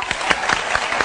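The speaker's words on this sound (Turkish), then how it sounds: "Taner Dilek'lere de bir alkış istiyorum." An audience applauds a guest, Taner Dilek, on a talk show. A short burst of scattered, fairly loud hand claps with no voices over it.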